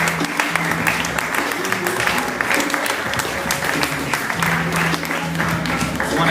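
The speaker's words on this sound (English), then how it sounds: "I'd like one more round of applause for this." Audience applause following a motivational talk to students, steady dense clapping from a crowd filling the room at an even level throughout.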